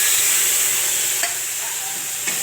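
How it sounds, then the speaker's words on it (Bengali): Spices frying in a pan with a splash of water, giving a steady close hiss with a couple of soft spoon-stirring scrapes, no voices. "এবার এই মশলাগুলো ভালো করে ভাজবো"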